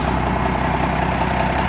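A 1992 Dodge Ram 2500 4x4 with an intercooled 5.9 Cummins diesel and stock exhaust runs steadily and loudly nearby, a continuous low engine drone with no talk over it.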